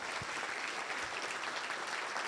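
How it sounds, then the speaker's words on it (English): A luncheon audience gives a round of applause, steady dense clapping from a roomful of people, moderately close and even throughout, with no voices. "Let's give a round of applause for Steve for being here today."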